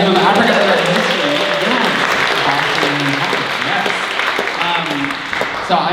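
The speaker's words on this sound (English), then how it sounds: "give a round of applause to the Museum of African American History." A panel audience gives a hearty round of applause, a thick wash of clapping with voices cheering and talking over it.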